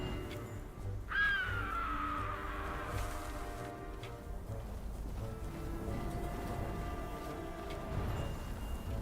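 Crows caw inside the video game Herdling: a loud, descending caw near the start, followed by fainter calls over a steady ambient backdrop, with no talking.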